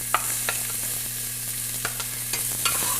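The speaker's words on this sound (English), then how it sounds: "Get those onions in." Onions sizzle in hot oil in a pan on high heat for ground beef tacos, a steady close crackling hiss with occasional stirring clicks and a low background hum.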